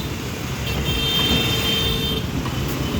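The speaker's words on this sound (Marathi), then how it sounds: "आता गाड्या सुटलेल्या आहेत." Road traffic moves off together after a signal at a busy intersection, a steady loud rumble of car and bus engines with a faint horn note held in the middle, no voices.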